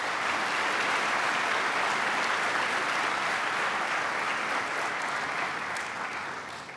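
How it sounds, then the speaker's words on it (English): A large audience applauds at a spring community college commencement ceremony, a broad, steady roar of clapping that holds loud throughout before easing slightly at the end. "Let's give them a round of applause."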